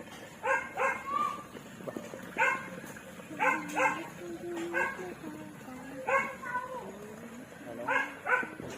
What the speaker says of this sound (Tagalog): maingay talaga yung alaga namin ng aso ano?